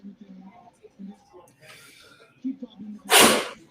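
A single loud, sharp sneeze bursts out close by after a few seconds of low, murmured talk.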